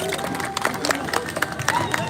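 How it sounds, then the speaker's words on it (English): An audience at a live sea lion show cheers and claps in a short, lively burst, with a high whistle-like tone rising through the crowd noise. "so let's give him a cheer guys"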